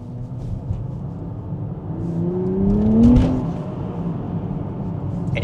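A Nissan Z Nismo Japan Special sports car in manual mode accelerates from inside the cabin; the engine note climbs in pitch and loudness, peaks, then eases off, with no talking.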